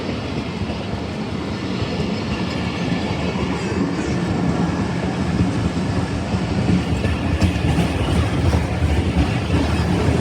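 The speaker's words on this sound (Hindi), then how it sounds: "रहमान बाबा एक्सप्रेस बदामी बाग को क्रॉस कर रही है।" The Rehman Baba Express passing Badami Bagh station in Lahore, a loud, steady rumble of rolling wagons with rhythmic wheel clatter and faint squeals, heard close and continuous throughout with no voices.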